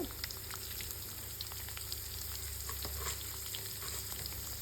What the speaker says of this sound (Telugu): వేగిన తర్వాత ములంకాయలు వేసుకోవాలి. వేసుకొని కొద్దిగా దూరగా వేగించుకొని, ఎక్కువ వేగించుకోకండి.